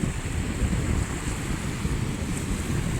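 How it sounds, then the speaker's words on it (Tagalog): Waves and surf churn along the seashore under gusting wind, a dense, steady roar recorded close and loud, without any speech. "Kaso lang, dagat namin dito"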